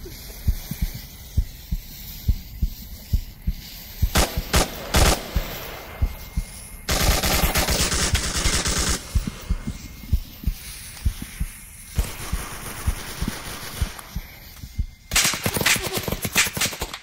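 Rapid bursts of automatic gunfire from a military shooter game, Onward VR, crackle loudly in irregular volleys, with sustained stretches of heavy shooting separated by brief gaps.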